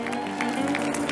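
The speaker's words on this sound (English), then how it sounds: "So give him another round of applause." A church congregation applauds at an Easter Sunday service, giving a dense, steady wash of clapping over sustained musical tones.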